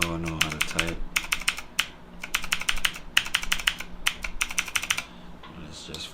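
Rapid clattering bursts of typing on a Superman-themed mechanical keyboard fitted with red keycaps, close and crisp, coming in quick flurries with brief pauses between runs.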